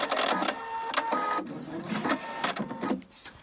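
Sewing machine running in short bursts while stitching an elastic casing on baby bloomers, several close, loud runs of whirring stitching separated by brief pauses, with no talking.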